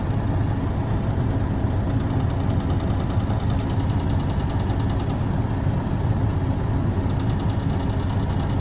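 An old Classic XL truck engine idling right after a new clutch was fitted, a steady, close, loud mechanical rumble with a faint knocking texture that holds evenly the whole time.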